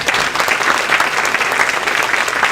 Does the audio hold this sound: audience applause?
yes